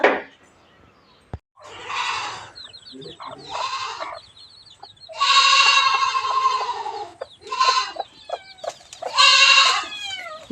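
Farmyard animal calls, bleating and clucking cries that come in several separate bursts with short gaps between them, fairly close, with the background otherwise quiet and no clear talk.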